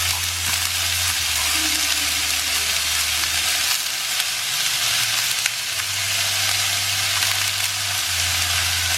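Mango pieces fry lightly in a pan for pickle, giving a steady, close sizzle with bright crackling and occasional stirring scrapes, continuous and fairly loud with no talk.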